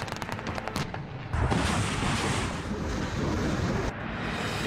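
Gunfire and shelling in Mariupol, a dense rumbling roar of blasts and rapid reports that swells loudly after a brief opening and holds steady, with no voices.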